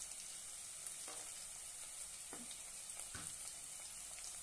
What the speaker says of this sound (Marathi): आता छानपैकी परतून घेऊया